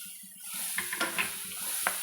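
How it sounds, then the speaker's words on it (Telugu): Soy chunks (meal maker) frying in oil for a tomato curry, a soft sizzle with a few short stirring scrapes, fairly quiet and without talk. "ఇవి నూనెలో మంచిగా ఫ్రై కావాలి. అప్పుడే కూర మంచి టేస్ట్ వస్తుంది."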